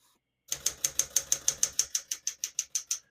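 Keys struck on a 1965 Smith-Corona Sterling portable typewriter, a fast even run of about fifteen crisp mechanical clacks, close and loud with no voices.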